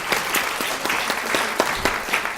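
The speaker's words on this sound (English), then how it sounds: "well-deserving of your applause" Audience applause at a university surgery lecture, steady dense clapping from a seated crowd, filling the whole moment with no talk over it.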